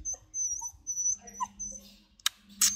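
Two young Rottweiler puppies, one of them listless and unwell, give high, thin whimpers and whines close by, with soft yips and a couple of sharp clicks near the end.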